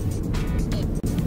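A car drives down a tree-lined country lane toward a farm in Devon, UK, giving a brief, steady rumble of engine and road noise up close.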